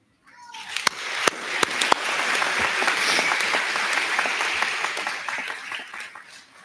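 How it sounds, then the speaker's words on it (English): Warm applause fills a hall at a university commencement, honoring Kathy Pelletier; a few sharp early claps swell into sustained, dense clapping from a large crowd that slowly tapers off. "I'd like to ask one more round of applause for Kathy"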